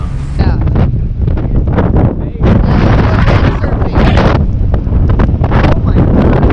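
Strong 50 mph wind buffets the microphone on a Great Lakes shore in Michigan during an ice storm, a loud, constant roaring rumble with gusting surges and a brief lull near the middle.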